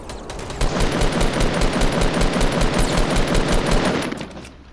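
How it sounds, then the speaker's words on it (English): Rapid automatic gunfire in a multiplayer shooter video game, a near, loud stream of dense bursts running almost continuously with a brief pause near the end. "There's somebody shooting at him from below the hill."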